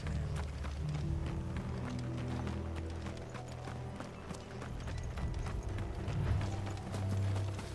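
Horse hooves clip-clop in Final Fantasy XVI, a continuous run of hoof strikes mixed with mechanical, ratcheting rattles like a cart, moderately loud and without talk.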